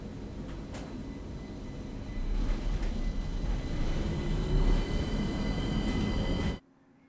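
An S-Bahn train from the Brenner line rolls into a platform at an Innsbruck station, a steady rumbling and rail noise that swells as it arrives and then cuts off abruptly.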